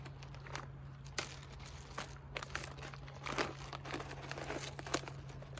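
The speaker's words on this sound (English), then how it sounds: "remove the contents out of this pouch and simply put them in a Ziploc bag" Plastic food pouch contents being shifted into a Ziploc bag, giving quiet, close, irregular crinkling and rustling with small crackles over a low steady hum, no talk.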